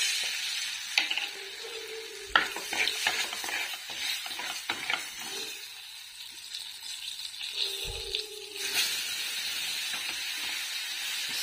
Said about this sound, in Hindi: तो आज सब्जी में है आलू, शिमला मिर्च और प्याज की सब्जी है मम्मा बना रहे हैं